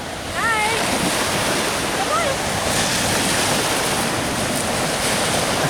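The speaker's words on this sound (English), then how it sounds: "That's the ocean" Surf breaking at Doheny State Beach, a steady roar of ocean waves with gusty wind on the microphone, while people nearby talk briefly and a few high chirps rise over the water noise.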